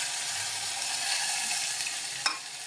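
Onion sizzles in a hot tempering of oil with garlic paste and curry leaves for lasuni palak, a steady loud frying hiss with a faint clink near the end.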